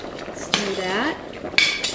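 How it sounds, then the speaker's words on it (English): A utensil stirs cream in a pan on medium heat for shrimp pasta, giving two sharp metallic clinks against the pan with a short spoken voice between them. "Stir that."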